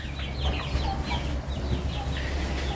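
Chickens in pens, including laying hens, clucking in a continuous mixed flock chatter with scattered higher calls over a steady low background hum.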